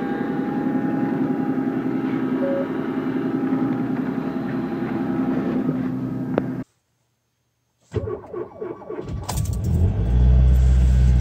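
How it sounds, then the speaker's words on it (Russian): A car engine idles steadily with a low rumble after a cold start at -40°C, cuts out briefly, then restarts and revs up louder toward the end. "Тачка завелась."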